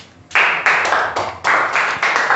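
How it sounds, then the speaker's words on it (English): An audience at a speech on mobile games and technology breaks into applause, swelling in several loud surges of dense clapping that stay close and steady for a couple of seconds. "Have a round of applause for"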